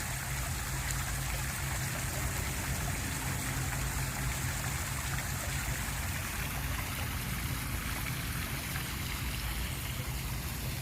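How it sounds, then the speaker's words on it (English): A cemetery waterfall pours in a steady, continuous rush of splashing water, moderately distant and unbroken, with no voices over it. "Waterfall is so pretty."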